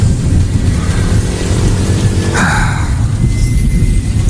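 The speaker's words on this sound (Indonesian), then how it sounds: "tiba-tiba saja hujan turun, cukup deras" Heavy rain pours down steadily in a broad, loud roar at night on a road by a shop, with no letup throughout.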